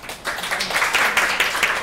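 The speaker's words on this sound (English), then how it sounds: "Give a round of applause." Workshop audience applauding, a dense continuous wash of many hands clapping, close and fairly loud throughout.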